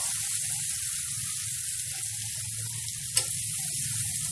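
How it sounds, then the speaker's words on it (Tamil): Spiced cheppankizhangu (taro root) pieces drop into hot oil on a low flame and fry with a steady, close, crackling sizzle that holds throughout, with one brief clink near the end. "நம்ம மிக்ஸ் பண்ணி வச்சுருக்க சேப்பங்கிழங்கு வந்து இதில் ஆட் பண்ணிடலாம்."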